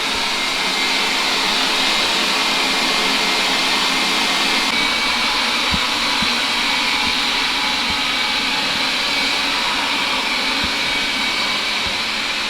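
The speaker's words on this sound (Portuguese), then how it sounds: "Enquanto a Mimi está a acabar de aspirar o quarto" A Xiaomi Mi Robot Vacuum Mop P robot vacuum cleans a room, giving a steady, loud, continuous whirring hum with faint bumps and clicks as it moves, running alone without any voices.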